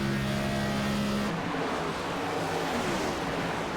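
A stock race car on the high side at Kansas in a racing video game sweeps past at speed, a loud engine tone that drops in pitch partway through and fades into a broad rushing roar.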